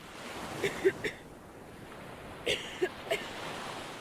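Surf on a sandy beach, a soft, low wash of ocean waves in the background, broken by a few brief sharper clicks and knocks, fairly faint.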